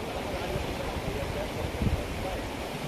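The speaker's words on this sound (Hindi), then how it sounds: "ये झरने की आवाज आप सुन पा रहे होंगे।" Waterfall stream rushing down in Nubra Valley, Ladakh, a steady broadband roar of flowing water that fills the clip continuously, with a slight surge near the end.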